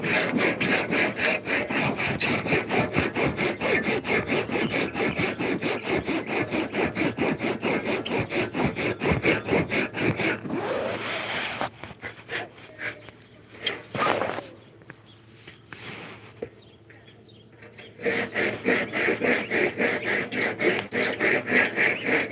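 A hand saw cuts through a tree branch in a front yard with steady rapid rasping strokes, close and loud, pausing for several seconds before the stroking resumes.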